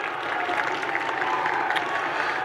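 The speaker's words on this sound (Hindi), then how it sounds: "अपने लिए आप जोरदार तालियां खुद बजाएं" Sustained, fairly loud applause from a debate audience in a hall, a dense wash of clapping with a low crowd murmur beneath it, steady throughout.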